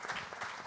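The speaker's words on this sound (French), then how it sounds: "Oui, applaudir." An audience applauds at a civic debate, a brief burst of scattered clapping with a faint murmur beneath.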